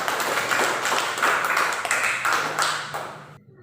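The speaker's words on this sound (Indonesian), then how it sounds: "Ya, tepuk tangan" A group of children in a classroom lesson clap their hands together in a quick, uneven burst for about three seconds, then it stops abruptly into silence.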